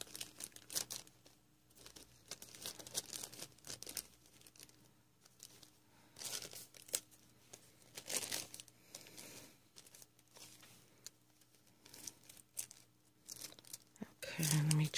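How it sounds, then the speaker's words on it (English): A plastic shopping bag crinkles and tears as scissors cut it apart, with soft scattered rustles and snips, quiet and close, alongside intermittent speech. "let me just cut this apart here."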